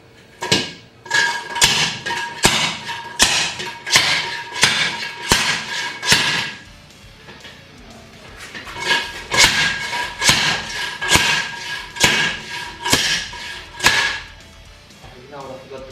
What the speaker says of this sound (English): a slide hammer